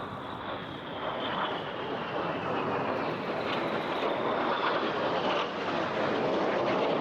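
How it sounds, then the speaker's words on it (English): Red Arrows jets of the Synchro pair sweep past at the Eastbourne Airshow, a broad, sustained roaring jet rush heard from a distance with a faint rising whine, steady and unbroken throughout. "look directly to your right as the Synchro pair run back in with the smoke behind them running"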